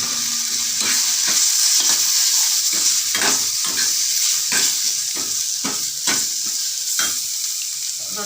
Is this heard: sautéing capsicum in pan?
yes